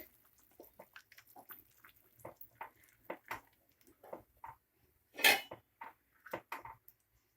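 Rice and water being stirred in a cooking pot for vegetable rice bath, heard as a series of scattered light scrapes and knocks of a utensil against the pot, with one louder clatter near the end.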